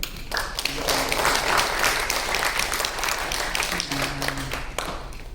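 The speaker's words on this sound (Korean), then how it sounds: "우리 환영의 박수 할까요?" A church congregation claps in welcome during a Sunday worship service, a dense round of hand clapping with some voices and tones underneath.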